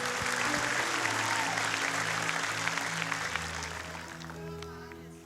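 A church congregation claps together during a sermon, a dense, sustained burst of applause heard close and loud, fading slightly toward the end, with a low organ or keyboard tone beneath it.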